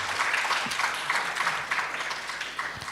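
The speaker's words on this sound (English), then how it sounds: "Please clap hands for our judges." Audience at a university entrepreneurship intervarsity event applauding the judges, a steady dense wash of many hands clapping throughout, moderately loud and with no talk over it.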